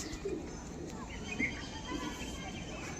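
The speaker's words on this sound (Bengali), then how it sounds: "খুব সুন্দর পায়রা, খুব সুন্দর পায়রা, সরু একেবারে।" Deshi pigeons at a loft coo softly in a few low, brief calls over a quiet room background.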